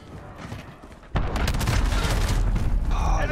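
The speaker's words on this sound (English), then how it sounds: "cruise missile incoming" A cruise missile strike in the video game Modern Warfare lands with a sudden loud blast and a dense, rumbling explosion that carries on for the rest of the clip after a quieter start of background game noise.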